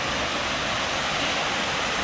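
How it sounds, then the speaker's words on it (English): A pretty waterfall on an off-trail forest hike roars as a steady, dense, full-band rush of falling water, constant and unbroken with no talk. "There's a waterfall. This is not the one that I'm aiming for, but it's really pretty."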